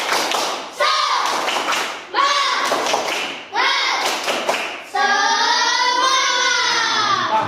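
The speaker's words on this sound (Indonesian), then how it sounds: "Tepuk semangat." A classroom of children doing a rhythmic spirit clap, loud sharp clap bursts repeating in a patterned sequence, with the class chanting along and a sustained group voice at the end.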